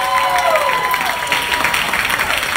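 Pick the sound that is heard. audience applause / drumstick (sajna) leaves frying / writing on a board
audience applause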